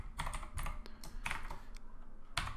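A computer keyboard is typed on in quick irregular bursts of close, crisp key clicks while code for a test class is being entered.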